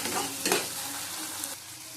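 Raisin paste sizzles as it is sautéed in a frying pan for chicken curry, a close steady hiss with one louder stirring scrape early on, then easing quieter, with no one talking.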